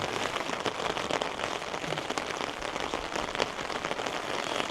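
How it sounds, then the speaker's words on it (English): Heavy rain pours down steadily, a dense continuous hiss with scattered drop patter, loud and close, with no voices. "What is with the rain? It's relentless. It just will not stop."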